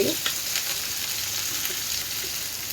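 Onions sizzle steadily in a hot oiled pan while the aloo samosa filling is prepared, a close, continuous frying crackle with faint stirring underneath.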